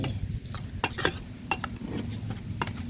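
Fish laab with toasted rice is stirred and mixed by hand, soft scraping and clinking against the bowl in scattered strokes close by, with no talk.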